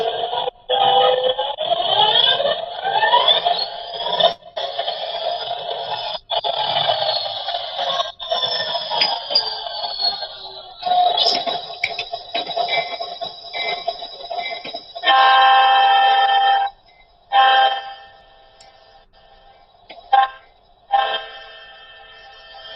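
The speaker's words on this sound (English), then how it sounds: "you can hear the Soundtrack's Economy sound package that comes with these locomotives" A Bachmann model locomotive's Soundtraxx Economy sound package playing synthesized train effects: repeated horn and whistle blasts with sweeping tones and engine chuffing, loud and close, fading into short separated horn bursts toward the end.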